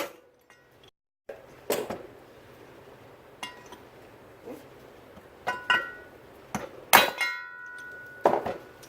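Several sharp metallic hammer blows on a socket and extension used to drive a bearing out of a Lambretta scooter's magnesium flange, spaced irregularly with bright ringing clinks, close and fairly loud in a quiet workshop.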